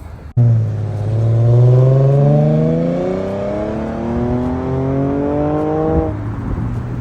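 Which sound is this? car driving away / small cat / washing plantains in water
car driving away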